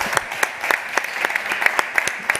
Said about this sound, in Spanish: Yo pido un aplauso para Álvaro.